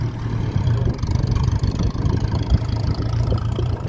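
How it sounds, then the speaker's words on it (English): An old Ford tractor hauling turf in the distance, heard as a steady low engine drone that runs continuously with a slight rough pulse. "Someone up there in the distance bringing in turf with an old tractor."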